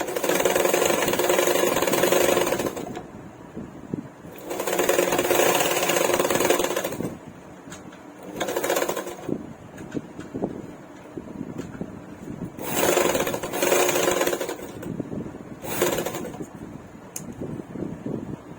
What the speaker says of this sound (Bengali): এই যে সেলাইটা করেছি এর উপর থেকে একটা চাপ সেলাই দিতে হবে